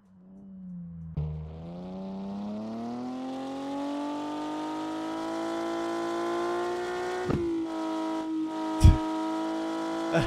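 In Car For Sale Simulator 2023, a car engine revs up in a long, rising drone that holds steady and loud, broken by a few sharp knocks and a brief thump near the end.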